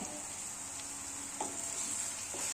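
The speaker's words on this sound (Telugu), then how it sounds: "ప్యూరీ కూడా బాగా వేగిందండి" Tomato puree fries in oil for meal maker masala, giving a continuous even hiss of sizzling with a few soft stirring scrapes, up close and without voices.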